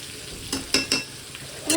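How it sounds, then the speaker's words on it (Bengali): Sizzling over high heat with a few quick scraping stirs of a spatula against the pan, close up, no voices. "একটু গ্যাসটা জোরে করে লাল করে ভেজে নিচ্ছি"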